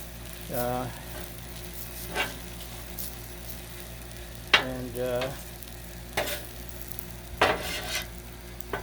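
Shrimp fried rice sizzles on a Blackstone flat-top griddle, a steady close frying hiss broken by several bursts of spatula scraping and stirring against the metal surface, with no talking.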